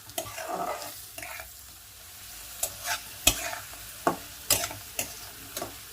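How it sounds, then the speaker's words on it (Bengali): Moong dal and potatoes frying in a pan, a soft sizzle under intermittent scraping and clinking as the mixture is stirred with a spatula, fairly quiet and close. "আলুর সঙ্গে ডালটা আমি খুব ভালো করে ভাজবো।"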